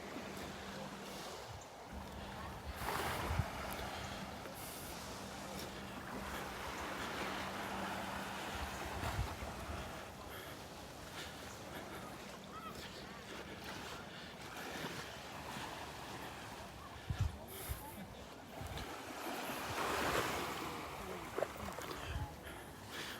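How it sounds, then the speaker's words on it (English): Ocean waves wash onto a beach in North Naples, Florida as the tide comes in, a steady surf roar with wind buffeting the microphone and a voice talking at times over it. "I believe the tide is coming in."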